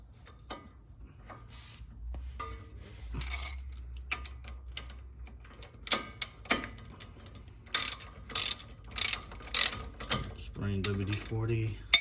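Ratchet clicks in quick bursts while loosening a lower ball joint bolt on a Lexus LS430, with scattered metallic taps and clatter from the repair in a quiet workspace.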